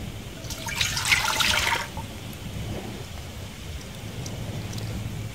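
Water pours into a cooking pot for boilo, a camp fire beverage, a short splashing rush about a second long that fades into quiet background hiss.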